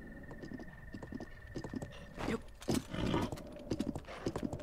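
Horse hooves clip-clopping in the video game Zelda: Breath of the Wild, a steady run of light, quick hoof taps at moderate distance under game ambience with a sustained tone, louder bursts midway.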